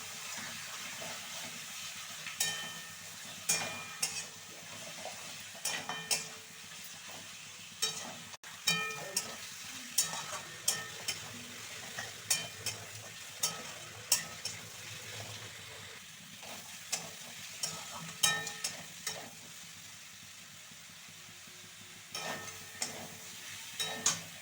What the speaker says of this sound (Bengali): আগে থেকে ম্যারিনেট করা মাংসটি এতে দিয়ে এবার খুব ভালো করে কষতে হবে